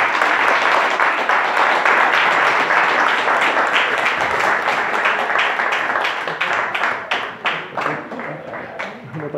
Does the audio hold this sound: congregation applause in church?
yes